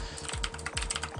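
Rapid, irregular keystrokes on a computer keyboard, quiet and close, clattering in short bursts while someone types a login username and password into mIRC chat software.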